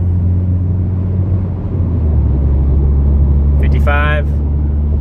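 A Ralliart Ultimate Racing exhaust drones from inside the car cabin while accelerating at about 45 mph under 3,000 rpm, a loud, steady low rumble with a brief voice near the end.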